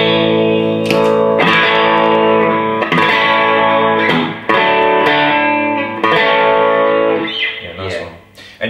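Electric guitar run through a treble boost pedal, strummed chords ringing bright and sustained one after another with a slightly driven edge, played alone and close.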